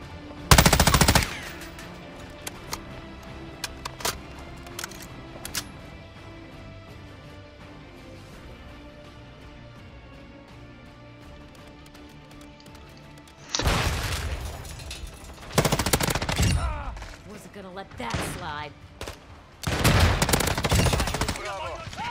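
Gunfire in a Call of Duty shooter on the Shipment map with an M13B rifle: a loud burst at the start, scattered single shots, then heavy sustained automatic fire in several long bursts toward the end.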